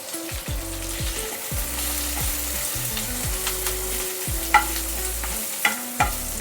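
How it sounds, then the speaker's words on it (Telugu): Curry leaves and thinly sliced green chillies fry in a little oil while being stirred in a pan for a spicy chicken majestic dish, giving a steady loud sizzle with a few sharp utensil clinks near the end. "అది కొంచెం ఫ్రై చేసుకుందాం."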